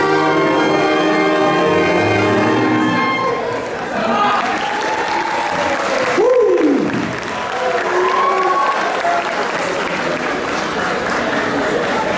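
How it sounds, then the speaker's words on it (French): An audience at a 2023 school graduation ceremony applauds the graduating students, a broad, sustained wash of clapping with some cheering, as voices rise and fall over it partway through. "On applaudit encore une fois les enfants."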